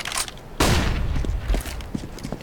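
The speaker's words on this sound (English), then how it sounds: "deploying flashbang, or the flashes like this. throwing flashbang." Flashbang grenades thrown in a video game, one sharp loud burst followed by scattered lighter pops and thuds, close and alone with no talk.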